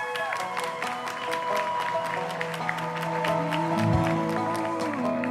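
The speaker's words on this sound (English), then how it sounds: "So a round of applause for them, please" Crowd applause in a high school basketball gym honouring Weslaco Lady Panthers seniors, a steady sustained wash of clapping with some cheering over a background of sustained tones.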